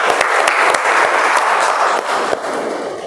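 A crowd applauds steadily with dense, continuous clapping throughout, fairly loud and close, with no talking over it.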